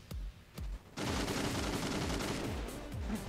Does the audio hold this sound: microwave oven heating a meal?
no